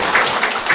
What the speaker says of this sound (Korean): 그 자리에서 일어서 주시면 큰 박수로 환영하도록 하겠습니다.